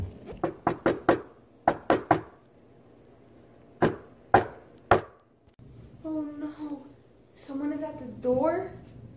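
Sharp knocks on a door in quick bursts, three to five raps each with short pauses between, loud and close, followed by a voice speaking.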